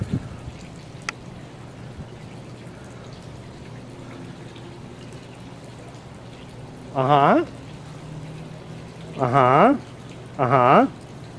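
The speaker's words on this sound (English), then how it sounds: "The waterfall goes with it." A steady wash of running water from a backyard pool waterfall at night continues throughout while someone speaks in a few short bursts.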